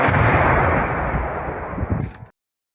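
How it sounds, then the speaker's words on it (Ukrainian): A loud explosion blast in Zhytomyr, Ukraine, erupts, its roaring rumble sustained and slowly fading before cutting off abruptly; no voices are heard. "Зараз буде взрив. Взрив!"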